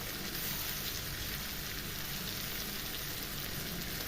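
Ginger sizzles steadily in a hot pan with potato and pointed gourd in a vegetarian home kitchen, a soft, even, rain-like crackle that stays constant, fairly faint, with no voices.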